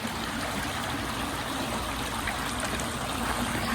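Water tumbling steadily down a 20-foot pondless waterfall in East Memphis, a close, continuous splashing rush with no breaks and no voices.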